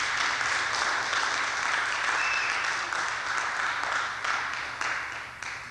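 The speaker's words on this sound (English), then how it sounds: "Give them another round of applause." Steady applause from an audience at a talk on African culture and spirituality, a dense wash of clapping that holds level then begins to thin and fade toward the end.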